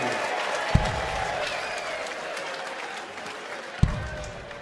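Darts crowd at the Lakeside BDO World Darts Championship cheering and applauding a maximum 180, a steady roar of clapping and voices with two sharp thuds of darts landing.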